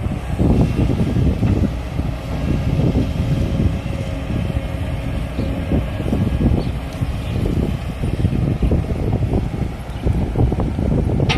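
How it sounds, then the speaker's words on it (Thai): Cool wind blows steadily outdoors beside an excavator job site, a dense unbroken rush of rustling noise buffeting the microphone for the whole stretch, loud and close, with no talk. "โอ้ ลมเย็นดีครับวันนี้"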